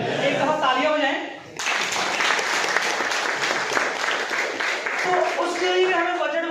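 An audience at a business talk breaks into loud, sustained applause lasting several seconds, steady and dense throughout, with a speaker's voice briefly heard over the opening moments.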